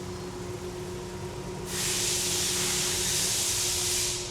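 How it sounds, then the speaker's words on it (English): A steady low mechanical hum runs throughout, then a loud, bright hiss of liquid spraying from nozzles bursts in and continues steadily during a test run on a Camaro. "we're looking to see if we got good spray patterns"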